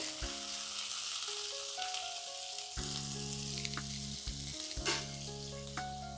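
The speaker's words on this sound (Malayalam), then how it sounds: "സവാള ഇത്രയും നമുക്ക് ചേർത്ത് കൊടുക്കാം നന്നായിട്ട് വഴറ്റാം" Ginger, green chilli and sliced onion sauté in hot oil for a tapioca and egg dish, giving a steady close sizzle with stirring clatter and a few sharp utensil taps throughout.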